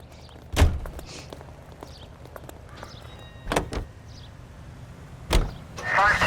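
A car in L.A. Noire, with three heavy door thunks spaced a few seconds apart over a low engine rumble, and a voice briefly speaking near the end.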